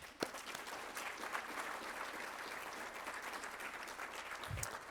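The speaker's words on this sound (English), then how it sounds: "We can clap for that too." Audience applause at the Montgomery County Business Hall of Fame 2021 awards event: steady, dense clapping from a large room that holds evenly for the full stretch, with no voices over it.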